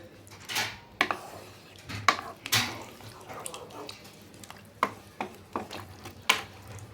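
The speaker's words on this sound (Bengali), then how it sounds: "এটাকে ভালো করে একবার নাড়াচাড়া করে নিচ্ছি, গায়ে লেগে থাকে ওগুলো সব নামিয়ে নিতে হবে ভালো করে।" Okra curry is stirred in a cooking pot with water added, giving scattered scraping and clinking strokes against the pot at an uneven rhythm, fairly soft and close, with no talk.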